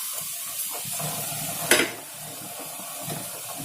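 Bread crumbs are stirred into hot milk in a pan for bread halwa, giving a soft steady sizzle and scraping with one sharper clack of a utensil against the pan midway.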